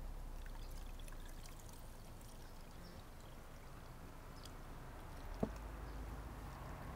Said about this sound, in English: what we're going to simply do is actually pour this through the sieve